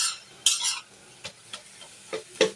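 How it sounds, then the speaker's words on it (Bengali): A spoon stirs danta shak greens cooking in a pan, with a soft sizzle, a couple of scraping sweeps and several light clinks against the pan, close by and without speech. "এখন শাকটাকে নেড়ে চেড়ে সিদ্ধ করে নেব।"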